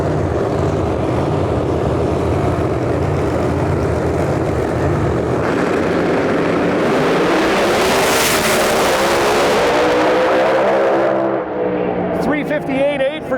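A drag racing car makes its qualifying pass at a Lights Out 16 event, a loud sustained engine roar that swells and sweeps as the car blasts down the track, with an announcer talking over it.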